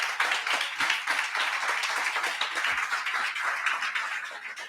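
Congregation applauding during a church service, a steady spread of many hands clapping at moderate level throughout, with no voices rising above it.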